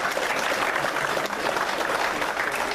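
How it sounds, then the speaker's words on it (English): A round of applause from the audience at a patriots' gathering honoring veterans, steady dense clapping filling the whole stretch at moderate loudness with no voice over it. "Let's have a round of applause for these ladies,"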